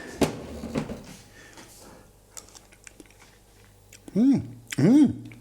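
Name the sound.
tasting and chewing sauce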